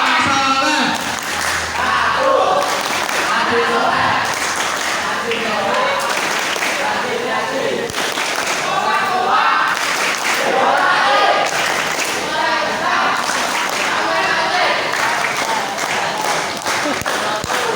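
Applause from an audience at an Islamic boarding school farewell night in Boyolali, a steady dense patter of clapping sustained throughout, fairly loud with crowd murmur mixed in.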